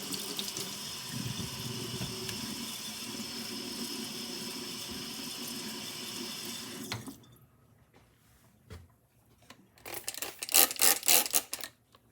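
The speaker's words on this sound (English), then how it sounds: "I think I'll do a couple of passes on just plain water here." Plain tap water runs in a steady rush for about seven seconds, then stops; afterward come quieter clinks and a short burst of splashing water near the end, with no talking.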